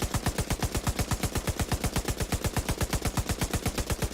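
Sustained rapid automatic fire from a light machine gun in The Division 2, a steady rhythm of about nine shots per second, loud and close, running unbroken for four seconds with no talking.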